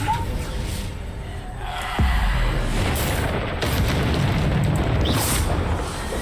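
A Bombarda spell explosion in the video game Hogwarts Legacy lands as a deep, loud boom partway through, then a sustained rumbling roar with more muffled blasts in a dense, noisy battle.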